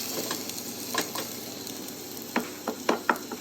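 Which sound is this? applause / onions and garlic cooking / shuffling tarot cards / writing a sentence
onions and garlic cooking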